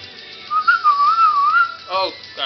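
Whistling in the video game Sacred: a sustained, wavering whistled tune that glides up and down, loud and close. It ends with a short burst of rising notes.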